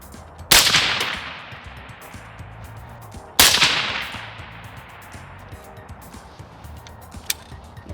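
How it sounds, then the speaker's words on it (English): Two sharp, loud AR-15 rifle shots ring out several seconds apart at an outdoor shooting range, each a crack with a decaying echo, followed by a faint click. "Emma got through her first 10 rounds or so with an AR-15"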